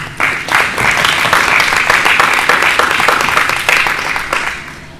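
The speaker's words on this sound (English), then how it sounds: "Can we have a round of applause for the panel?" An audience applauds a panel at an anti-spam workshop in Djibouti, a steady, fairly loud patter of many hands clapping that starts abruptly and holds for several seconds before thinning slightly.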